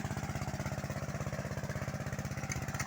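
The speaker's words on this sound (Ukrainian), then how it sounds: "Трактор 8 кінських сил для цієї косарки" An 8-horsepower tractor engine driving a hay mower runs steadily at close range, its rapid pulsing chug holding an even rhythm throughout, with a faint mechanical clatter on top.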